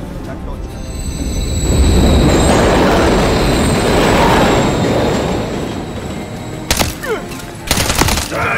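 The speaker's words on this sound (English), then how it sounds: "Another train coming." Train rushing past in Modern Warfare III, a loud, close rumbling roar that builds and fades over several seconds, followed by sharp clanks and gunfire-like bursts.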